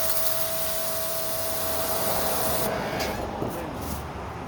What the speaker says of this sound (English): with an electric pressure washer, as you can see,